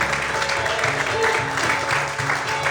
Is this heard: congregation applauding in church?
yes